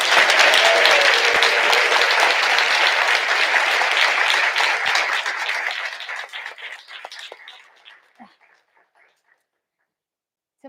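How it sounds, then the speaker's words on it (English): An audience at a board of education public session applauds its honorees, loud, dense clapping that gradually thins into scattered claps and fades to near silence. "let's give our deserving honorees one more round of applause"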